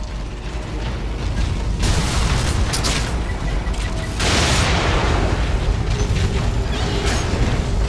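A loud explosion blast in The Evil Within, a survival horror game, heavy rumbling noise filling the whole stretch with a second surge midway, mechanical clanking underneath, no talk.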